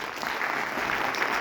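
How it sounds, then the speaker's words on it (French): A theatre audience at a French film premiere screening claps in a brief, steady burst of applause, close and even. "avant d'applaudir une dernière fois"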